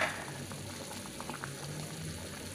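Beef soup simmers in a cooking pot, a faint, steady bubbling and gurgling of liquid close by with no voices.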